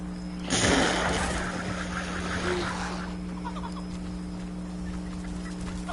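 Chickens in the game Fallout 76 give a sudden burst of loud clucking and squawking that fades into softer scattered clucks over a steady low electronic hum.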